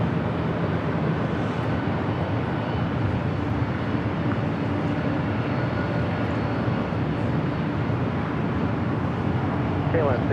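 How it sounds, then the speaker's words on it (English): A KLM Boeing 787-10 Dreamliner taking off at LAX, heard as a broad, steady roar of jet engines that holds constant and fairly loud throughout with no clear rise or fade. "KLM 604 taking off to Amsterdam on the 787-10 Dreamliner"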